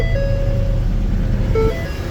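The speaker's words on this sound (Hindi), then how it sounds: "ये भाई साहब गाड़ी हमारी स्टार्ट हो गई है। एसी ऑन कर देंगे ताकि बाबा आए तो गाड़ी ठंडी रहे।" A car engine idles steadily after being started with the air conditioning running, a constant low rumble carrying a faint tonal whine and a brief higher note near the end.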